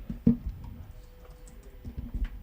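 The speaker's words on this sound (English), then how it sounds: "Typing too quickly." Someone typing quickly on a computer keyboard, a soft, close patter of key clicks with a low background hum and no speech over it.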